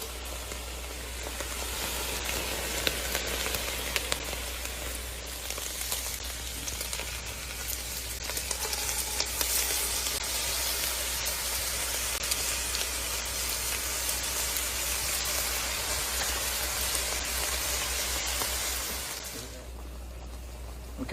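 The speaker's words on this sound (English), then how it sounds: "Now we'll add our veggies in. Now we're gonna saute these until they get soft." Vegetables sautéing in a pan with drained browned meat, a steady close hiss and crackle that continues evenly for about twenty seconds before dropping away at the end.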